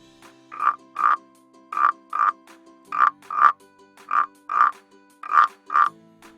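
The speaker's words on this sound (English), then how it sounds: "It's a frog." A frog croaks in a steady rhythm, about a dozen loud, close paired calls evenly spaced, with no other sounds.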